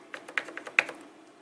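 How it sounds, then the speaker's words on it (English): Key clicks from a Razer Tartarus Chroma V2 gaming keypad: a quick run of about eight light, crisp taps, close and fairly quiet, with no talking. "it's got a nice, satisfying click compared to the older ones."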